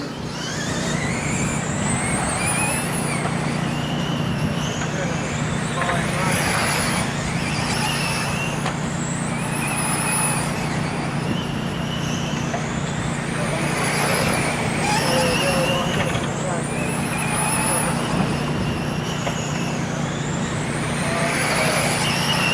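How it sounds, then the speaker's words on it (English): Stock cars lapping the oval at Toledo Speedway in a TARCAR feature race, a steady loud engine roar with passing cars sweeping by repeatedly, under continuous race announcer commentary. "So Jerome, the only car still on the lead lap"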